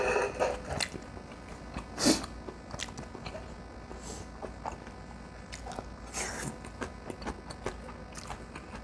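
Close, crunchy bites and chewing on cooked freshwater marsh snails, heard as irregular crackling snaps with one especially loud bite near the start.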